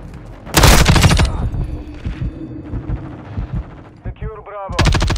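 Video game battle gunfire: a loud burst of rapid automatic shots opens, then scattered quieter shots and thuds, a brief voice, and another loud automatic burst at the end.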